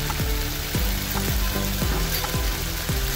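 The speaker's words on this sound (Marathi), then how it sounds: "चांगला भाजून घ्या, तर मसाल्याला तेल सुटत पण भाजून घ्यायचं चांगलं।" Masala spices roasting in oil in a pan, a loud continuous sizzle with regular scraping strokes from stirring, close up and without talk.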